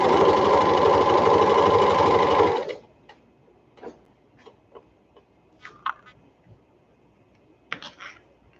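A sewing machine chain pieces fabric in a fast, loud burst of stitching for a couple of seconds, then stops, leaving quiet scattered clicks and light handling noises.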